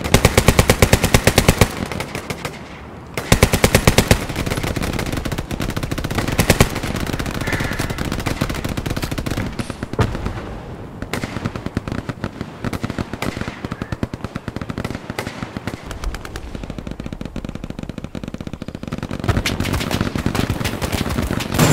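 Machine gun fire in the World War II shooter game Hell Let Loose, loud continuous rapid bursts with brief pauses, near and dense throughout, mixed with other gunfire and battlefield noise, no voices heard.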